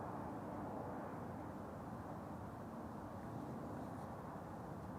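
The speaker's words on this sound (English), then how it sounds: "we are going to see KLM flight 1170 arriving from Bergen," A KLM Airbus A321neo airliner arriving on the Polderbaan runway at Amsterdam Schiphol gives a steady, broadband jet roar that holds level and fairly loud for the whole stretch, with no voices.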